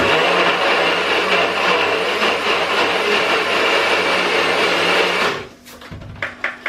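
A blender whirs loudly and steadily, churning protein pancake batter for about five seconds before cutting off, leaving a few light clicks and knocks.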